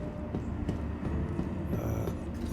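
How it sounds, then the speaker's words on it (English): Star Citizen sci-fi tram at a station, giving a steady loud rumbling rail drone with faint rhythmic clacks and hiss throughout, with no voices. "I know for a fact I'm about to miss this tram"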